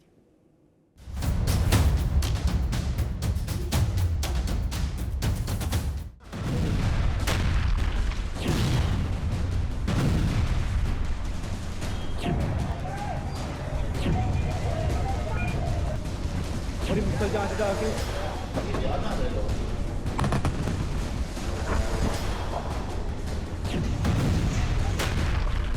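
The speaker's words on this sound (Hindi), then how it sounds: "एक के बाद एक बम ब्लास्ट," Bomb blasts and explosions strike Pakistani cities in drone attacks during Operation Sindoor, captured in news report footage: loud, dense, continuous booming and rumbling with sharp blasts, one brief lull near the start, and voices mixed into the din.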